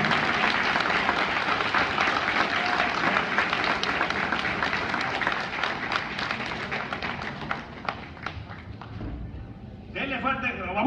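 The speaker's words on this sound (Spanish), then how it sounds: "Denle un fuerte aplauso al Rey de Reyes y al Señor de Señores." Loud, dense applause from a concert audience at a Christian men's congress in Watsonville, California, sustained across the clip and thinning toward the end, with a brief burst of clapping near the close.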